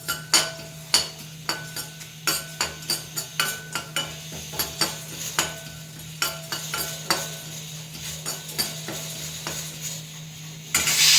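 Curry leaves fry in a pan with a steady sizzle while a spoon scrapes and stirs in a regular rhythm of sharp clinks, close and clear, with no voices.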